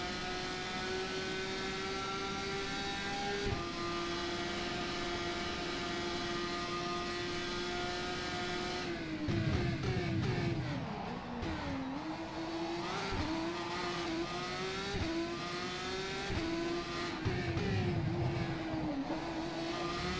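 A GP3 Formula race car engine in rFactor 2, racing around Adelaide, holds a loud sustained high-pitched whine with pitch rising and dropping through gear changes, alongside other cars' engines, continuous throughout.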